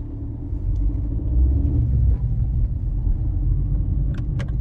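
An Opel Vauxhall Corsa D, just fitted with new rear shock absorbers, drives along with a steady low engine rumble and road noise throughout, a few light clicks and squeaks near the end.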